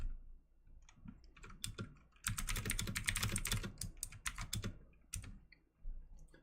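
Rapid keystrokes on a computer keyboard, fairly close and clear, starting sparse, then a dense burst of fast typing that slows into scattered clicks and a final short flurry; no talking.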